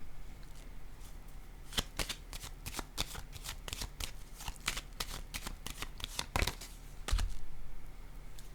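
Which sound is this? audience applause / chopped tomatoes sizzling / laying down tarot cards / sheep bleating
laying down tarot cards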